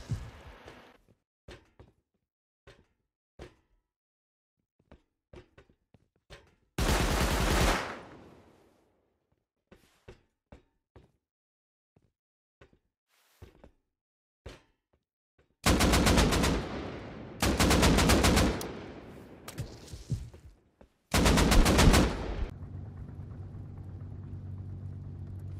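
Gunfire in the survival game Rust on an oil rig: scattered single sharp shots snap out at intervals, broken by several longer loud automatic bursts, with near-silence between them.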